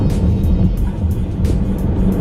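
Manual-transmission car engine held at steady, loud revs as the clutch is pushed in and a little more gas is given during a gear change, a continuous low rumble with faint road noise.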